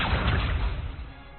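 The Accio spell being cast in Hogwarts Legacy gives one whooshing, whip-like magical swish that starts loud and fades out within about a second and a half.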